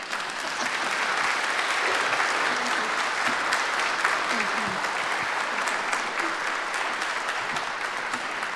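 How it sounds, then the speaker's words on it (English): A live show audience breaks into sustained, dense applause that stays loud and even throughout, with faint voices mixed into the crowd noise. "Now you may wildly applaud."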